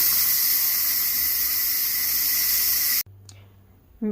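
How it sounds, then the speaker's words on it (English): Loud, steady hiss of steam venting from a pressure cooker after cooking spaghetti squash in water, a broad rushing release that runs for about three seconds before cutting off abruptly, leaving quieter kitchen sounds behind. "release the pressure"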